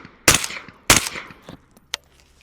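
Two sharp, loud .308 rifle shots fired in darkness, each with a short ringing decay, followed by a smaller click and a fainter crack.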